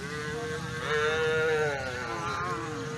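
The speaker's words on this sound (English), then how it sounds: "This head of cows have been passing here." A herd of cattle passes in front of St. John's Catholic Church in Wanikade, with one loud, drawn-out moo swelling and then trailing into lower lowing, close by and without any talk.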